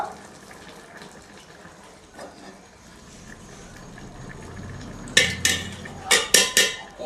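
Cooked cauliflower seasoned with cumin powder is moved into a cooking pot. Quiet kitchen rustling gives way to a run of sharp, close metallic clanks of utensil against pot near the end.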